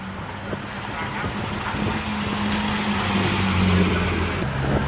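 A restomod Dodge Challenger muscle car rolls past at a Houston supercar show, its engine a steady low rumble rising slightly as it passes, with crowd chatter and voices around it.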